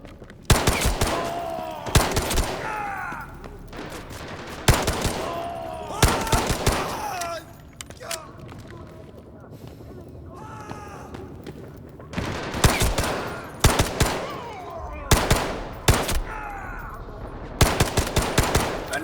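Bursts of automatic gunfire from the video game Delta Force, loud and close, clustered in rapid volleys with short quieter gaps between them and a calmer stretch in the middle.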